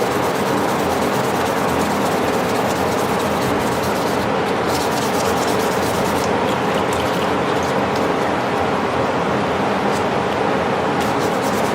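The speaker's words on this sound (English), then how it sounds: "Giving her a final sanding" Steady, dense rasping of abrasive rubbing back and forth against a pocket knife's metal by hand, continuous and close, without pauses.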